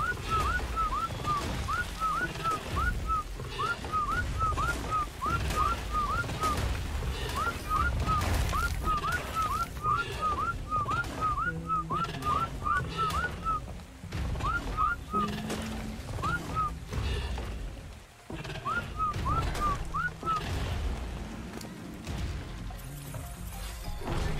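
A person whistles repeated short rising notes in quick runs during ARK Survival Evolved gameplay, with the phrases repeating over a noisy bed of game sounds and thuds, and with some talking in the background.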